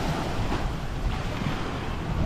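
Steady surf and waves wash onto a busy Boracay beach crowded with boats, a continuous close roar with wind buffeting the microphone and no talking.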